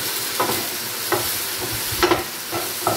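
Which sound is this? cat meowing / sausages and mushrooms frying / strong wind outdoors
sausages and mushrooms frying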